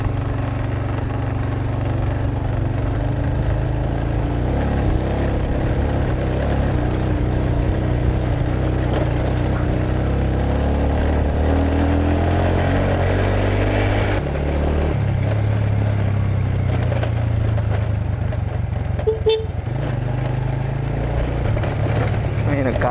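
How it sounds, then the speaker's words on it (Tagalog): A tricycle engine at full throttle climbs a mountain road in Benguet, with a steady, loud motor drone whose pitch rises and falls as it strains. A person speaks intermittently over the engine. "Nakasagad na yung throttle natin dyan mga kaibigan. Ngayon naka-tricycle tayo ngayon."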